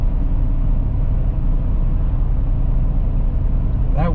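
A Chevrolet Silverado truck engine accelerating below wide open throttle, a loud, steady low rumble sustained throughout with a brief higher sweep at the very end.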